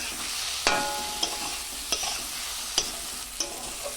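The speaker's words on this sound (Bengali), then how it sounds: "এইভাবে নাড়িয়ে চাড়িয়ে কষিয়ে নেব" Fried potatoes are stirred into a sizzling masala for a fish curry, with a constant frying hiss and about five sharp spatula scrapes against the pan at irregular intervals.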